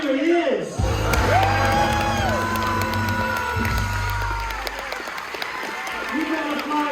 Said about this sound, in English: You got applause going for the ladies over there